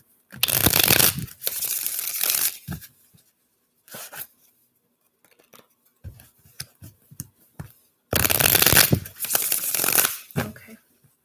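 A deck of cards is shuffled close up in two bursts of riffling, with quieter card handling and taps in between.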